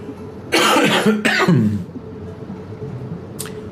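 A person's harsh cough, two loud bursts close together near the mic followed by a short throat sound, against a quiet room background.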